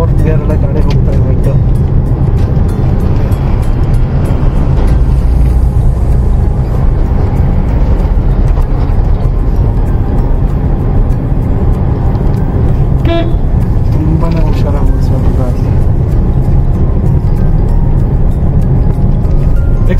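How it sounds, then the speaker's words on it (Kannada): A car cruising in fourth gear produces a loud, constant engine and road roar heard from inside the cabin, with a faint horn toot partway through. "ಆರಾಮ್ಸೆ ಫೋರ್ತ್ ಗೇರ್ ಎಲ್ಲ ಗಾಡಿ ಹೋಗ್ತಾ ಇದೆ."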